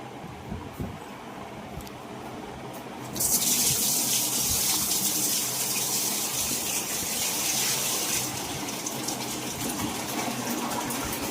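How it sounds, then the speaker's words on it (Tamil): Water gushes and splashes steadily into a fish tank after a quiet start, a loud, continuous pour close by that eases slightly near the end. "நம்ம வந்து பழைய தண்ணி ஊற்ற போகிறோம்."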